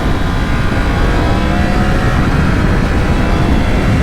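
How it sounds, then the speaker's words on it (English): A Yamaha MT-10 with a cross-plane crank engine runs hard on a highway, its loud, steady engine roar mixed with dense wind rush at close range, constant throughout, with no talking. "the cross-plane crank engine sounds phenomenal"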